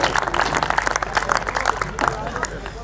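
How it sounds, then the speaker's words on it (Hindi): An audience at a night-time Hindi poetry gathering claps to welcome a poet, a steady close wash of applause from many hands mixed with crowd murmur and some talk. "जरा जोरदार तालियां बजाइए भाई श्री राम भदावर"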